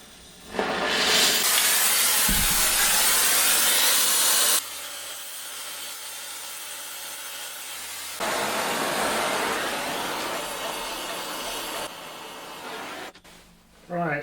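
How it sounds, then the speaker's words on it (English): Torch heating a seized stud on a Land Rover Series 2a during restoration, a loud steady hissing roar of flame that shifts in level and continues for most of the stretch before cutting away near the end. "What I'm going to attempt to do is try and heat it all up and to unscrew that stud"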